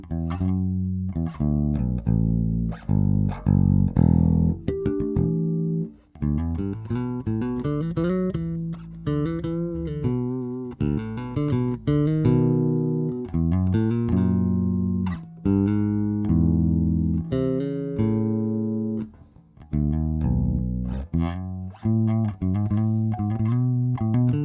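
A bass guitar plays through an Ibanez pitch shift pedal, giving a processed, layered tone. Phrases of plucked notes run close and loud, with a few brief pauses between them.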